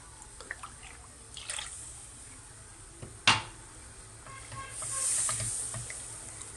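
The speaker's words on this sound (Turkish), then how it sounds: "İki buçuk su bardağı sütümüzü de ilave ediyoruz." Milk goes into a pot for creamy mushroom soup, starting as scattered drips and a light trickle, then a sharp clink of metal, then a steadier, fuller pour toward the end.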